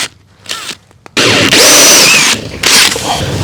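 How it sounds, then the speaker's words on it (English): Hole saw on a power drill cutting through vinyl house siding, a loud close-up grinding whine that starts in short bursts and then runs steadily for about two seconds before easing off. "I'm gonna use my same hole saw and do the same thing through the"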